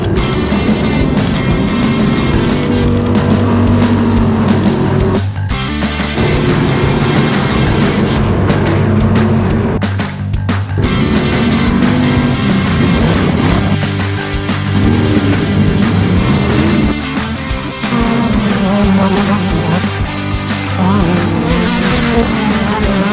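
Pro Light off-road trucks race at Glen Helen, engines roaring loudly and continuously as vehicles pass and rev, with brief dips between passes and tire noise over dirt.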